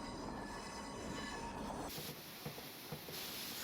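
An LMS 3F Jinty steam locomotive with its wagons and brake van rolls along in Train Simulator, a steady dense rumble of wheels on track with faint squeals and a few light clanks, no voices.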